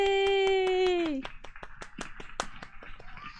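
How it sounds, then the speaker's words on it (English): Studio audience claps and cheers to welcome a new guest crafter onto an online craft show, a sustained tone fading at the start, then sharp scattered claps with voices mixed in. "I want this applause when I come onto my Zoom meetings too"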